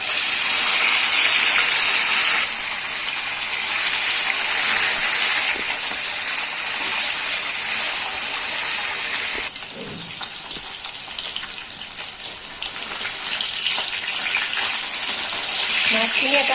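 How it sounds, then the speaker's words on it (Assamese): Fish fries in hot mustard oil in a kadai, giving a continuous loud sizzling hiss that shifts in intensity now and then over its whole length. "এতিয়া মই মাছখিনি ভাজি লম।"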